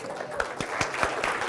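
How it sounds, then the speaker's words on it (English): Training-session audience claps together, a short burst of scattered and overlapping handclaps with a few sharper individual claps standing out. "Let's applaud her."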